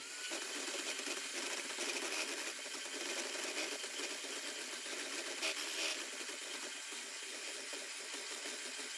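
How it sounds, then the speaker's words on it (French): An electric hand mixer beats egg yolks with white sugar for a hazelnut-spread tiramisu, giving a steady, close mechanical whir with a faint rattle that runs unbroken for the whole stretch, with no talking. "à l'aide de mon batteur, je vais bien mélanger le tout"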